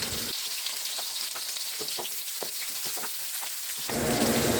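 Garlic and onion fry in hot oil in a kawali, a soft crackling sizzle with brief pops that swells louder near the end.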